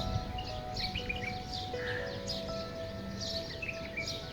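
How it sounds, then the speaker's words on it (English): Birds chirping in the early morning near mountains, faint scattered tweets and short calls over a soft steady background hum. "The birds are chirping."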